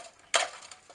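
Chicken cartilage pieces tossed in an air fryer basket after frying, one brief dry rattling clatter, close and fairly quiet.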